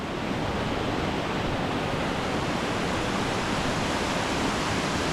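Steady broadband rush of a mountain stream flowing at Jiri Mountain in South Korea, a continuous even wash of water with no pauses or voices, close and fairly loud throughout.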